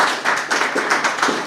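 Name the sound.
audience applause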